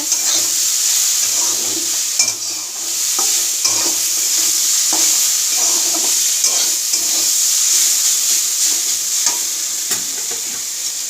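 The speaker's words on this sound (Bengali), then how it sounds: "তো দেখো ভাজা ভাজা হয়ে গেছে" Food frying in a pan gives a continuous bright sizzle, broken by regular scrapes and taps of stirring, close and loud throughout with no talking.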